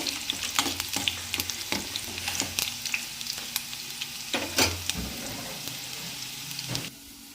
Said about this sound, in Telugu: ఇప్పుడైతే వేగి దగ్గరకు వచ్చేసింది. ఇంకోసారి కలుపుకోవాలి.